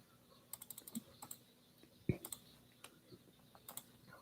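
Rapid clacking keystrokes on a loud computer keyboard, irregular bursts of clicks with one heavier thump near the middle, fairly close and alone with no talking.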